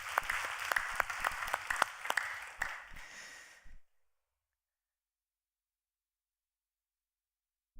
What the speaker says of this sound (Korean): 박수 한번 보내서 좋은 찬양.